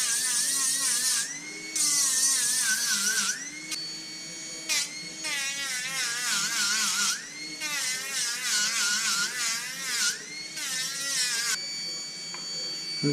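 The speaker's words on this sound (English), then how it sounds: "We're just going to keep sanding on it until we take it down and it's smooth" A rotary sanding tool whines steadily against a sterling silver ring set with turquoise, its high buzzing pitch rising and dipping in repeated passes with brief pauses between, close up and with no talking.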